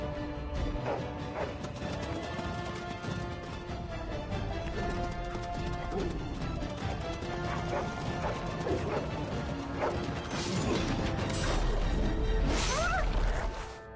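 War hounds barking and attacking amid clanking, smashing combat in the video game Dragon Age Origins, with repeated barks and crashes building louder toward the end.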